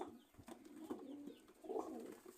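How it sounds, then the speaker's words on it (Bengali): A male Pakistani highflyer pigeon coos softly in a loft, a few low, faint rolling calls with no talk over them. "এটা নর কবুতর"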